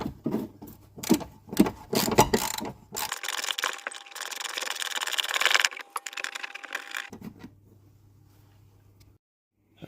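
A wrench ratchets and clanks while loosening the bolts on the suspension strut mount of a 2012 Volvo V50 D2, with bursts of clicking and metallic handling, then a quieter stretch with a steady low hum.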